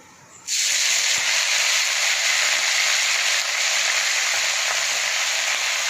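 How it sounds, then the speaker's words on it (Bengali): Drumstick leaves with black cumin and dried chilli hit hot oil, setting off a sudden loud, dense sizzle that holds steady and close for several seconds. "আর এইখানে এই যে সজনা পাতা ভাজা করব"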